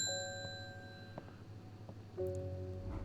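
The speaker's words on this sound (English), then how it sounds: "let's ring the bell" Shop bell ringing in the video game Strange Horticulture, a few faint metallic dings with short ringing tails, the last strike sharper and brighter over a quiet background hum.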